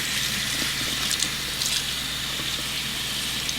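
A wig being rinsed under a running tap in a sink, a steady close hiss and gush of flowing water lasting throughout with slight splashing changes.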